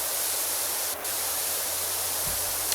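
A pressure washer sprays in PowerWash Simulator 2, a steady broad hiss that runs the whole time at moderate level, with a brief higher tone and a low thump breaking in.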